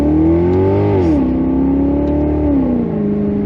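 A Maserati GranCabrio V8 convertible engine roars loudly and close, pitch climbing through a gear, dropping at a shift, then rising again with a strong harmonic growl.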